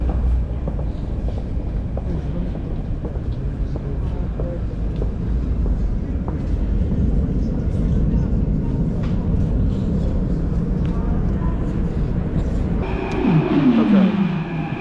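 Athens airport train in motion, a steady loud low rumble of wheels and carriage noise throughout, with a rising squeal or whine near the end as the train shifts speed.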